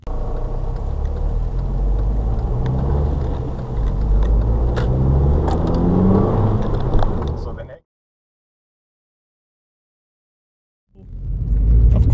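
An MK5 Volkswagen Golf GTI drives on the road, with a steady low engine and road rumble heard from inside for several seconds before a sudden cut to silence and a return of the noise.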